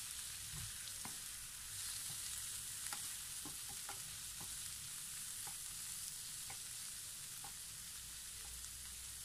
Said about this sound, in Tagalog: So, ngayon, ilalagay na natin ang ating hipon.